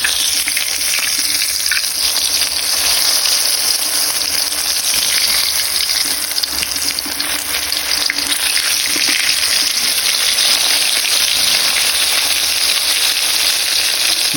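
Milkfish (bangus) steaks in a coating fry in hot oil with a steady, loud, dense sizzle and crackle that carries on without a break, close up and with no talking.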